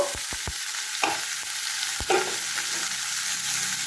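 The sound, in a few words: bottle gourd peels added to hot oil, sizzling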